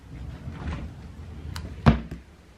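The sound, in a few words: nursery dresser drawer being opened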